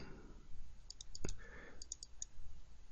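Mouse clicks in rapid pairs on a computer while working in template-editing software, several crisp double-clicks spread through a short stretch over a faint background hum.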